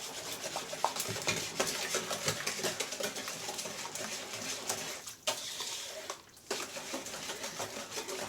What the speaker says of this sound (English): Maybe I'll whisk this.